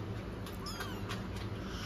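Kittens meow in a few short, faint, high cries over a steady low background hum.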